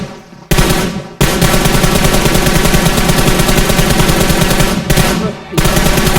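Sustained automatic gunfire from PUBG Mobile rattles loud and close in rapid bursts, with two brief gaps near the start and end, and no talking over it.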